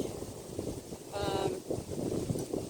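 Steady gusty wind rumbles and buffets against the microphone, a low continuous roar with no clear voices.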